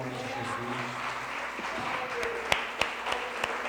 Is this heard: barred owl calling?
no